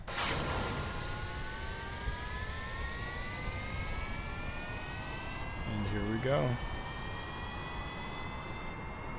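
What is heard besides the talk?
rocket engines roaring in a video game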